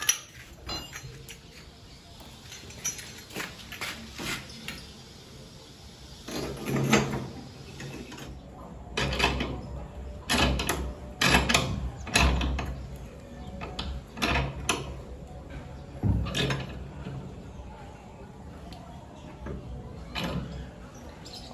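An old-style gebyok door handle and lock being fitted: scattered clacks, taps and metallic knocks of the hardware against a wooden door, irregular and close, with faint talking underneath.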